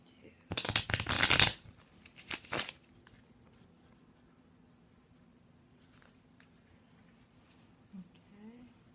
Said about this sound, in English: I've already shuffled, but I'm going to do a couple more.